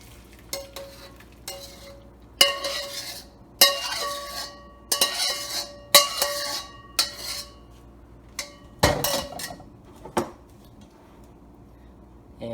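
Sauce is poured and scraped from a pan into a bowl in a home kitchen, with a series of sharp metallic clinks and scrapes of utensil against cookware, separated by short pauses and a faint sizzle underneath.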